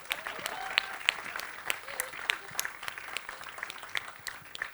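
At a launch event for the film Jersey, a crowd breaks into scattered, fairly distant applause, with uneven claps and sharper individual hits and a murmur of voices underneath.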